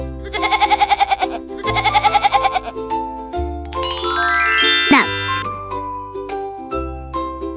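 A cartoon goat in a children's animation gives two wavering, nasal bleats in a row, followed by bright jingling chimes and a playful sliding tone.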